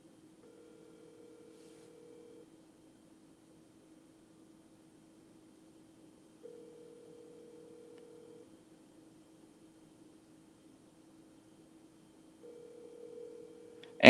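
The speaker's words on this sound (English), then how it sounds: "And it's ringing." A telephone ringback tone plays on an outgoing call, with three steady, low-pitched ring bursts of about two seconds each, separated by long silent gaps and heard alone.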